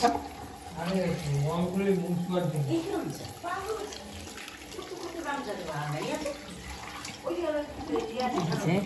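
A new child's toy is rinsed under running water, a soft steady flow heard beneath someone talking throughout.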